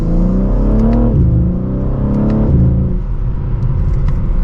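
A 2024 BMW M3 Competition with a manual gearbox accelerates hard in sport mode through second gear, its engine rising loud and close from inside the car, with a sharp dip in pitch at a shift before climbing again.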